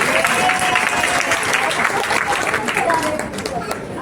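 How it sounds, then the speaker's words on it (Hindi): Audience applause at a devotional Vrindavan katha gathering, a dense, steady wash of many hands clapping close by, sustained for several seconds with crowd murmur mixed in. "अरे ताली बजाओ"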